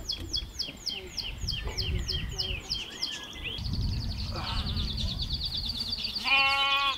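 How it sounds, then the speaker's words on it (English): On a city farm, a pygmy goat's wavering bleat rises near the end, following a stretch of repeated bird chirps and other animal calls, with a person talking in between. "So this is one of our pygmy goats."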